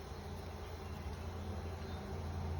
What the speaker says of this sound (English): these bees are very gentle, very docile.